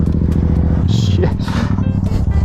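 A modified Yamaha FZ-07 (MT-07) motorcycle roars loudly as it is ridden hard, its engine rumbling and rising, with excited shouts from the rider over it.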